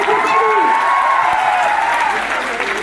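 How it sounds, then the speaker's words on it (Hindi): Loud, continuous applause from a seminar audience in Prayagraj welcoming a speaker, with a sustained tone and voices carrying through the clapping. "जोरदार तालियां आप लोगों से ऊर्जा लगातार।"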